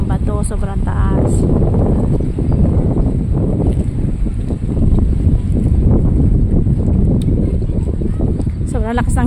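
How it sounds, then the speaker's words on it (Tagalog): Strong wind at Pocanil Beach in Bulalacao, Oriental Mindoro, buffets the microphone in a constant low roar, with a person speaking intermittently over the gusts. "Sobrang lakas ng hangin dito guys."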